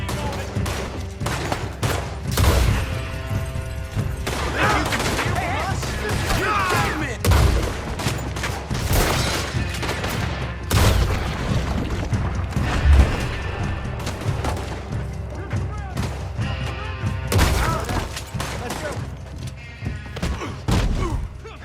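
Prolonged gunfire shootout from Red Dead Redemption 2, dense volleys of rifle and pistol shots with heavy booms scattered throughout, loud and continuous over a busy game soundtrack, with shouting voices mixed in.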